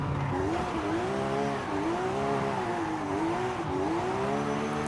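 A Porsche 911 power slides through corners in the Forza Horizon 5 racing game, its tires squealing in a long, wavering wail over a steady engine drone, loud and continuous.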